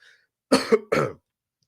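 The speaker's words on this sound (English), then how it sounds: "Even though I'm about to cough." Two quick, close coughs in succession, sharp and throaty, with silence before and after.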